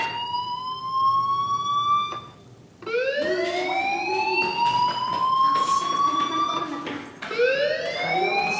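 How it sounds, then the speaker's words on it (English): A fire alarm blares in the video game Life Is Strange, a loud looping electronic wail with repeated rising sweeps that cut off briefly and restart, steady and close throughout. "Hey, do you hear that fire alarm?"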